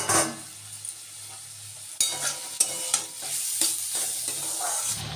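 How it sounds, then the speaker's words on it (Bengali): Banana stem fries in a pan, a close, bright sizzle punctuated by repeated sharp scrapes and taps of a spatula stirring the pieces, with no voices. "আর এদিকে একটু থোর ভাজা বসিয়েছি"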